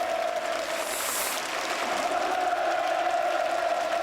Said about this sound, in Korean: 평양 시민들이 박수와 환호를 보내는 함성을 지르는 그런 모습입니다.